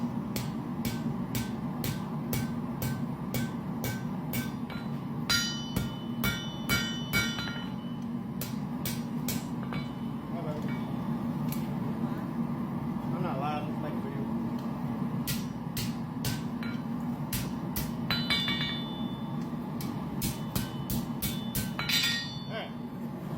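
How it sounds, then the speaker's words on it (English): Titanium being hammered into a knife shape: sharp metallic strikes land in uneven bursts and single blows against a steady background hum, moderately close. "whenever I start hammering it into a knife shape"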